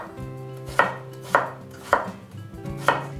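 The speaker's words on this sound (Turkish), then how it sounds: "Şöyle minik minik küp küp doğruyorum." Onion being chopped into small cubes on a board for menemen, four crisp knife strikes at a slow, even pace, close and clear with no talking.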